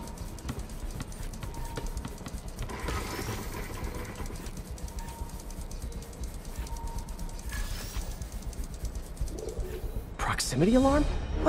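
A pigeon coos in Spider-Man Remastered, a few soft coos over continuous city ambience, followed by a louder rising swoop near the end.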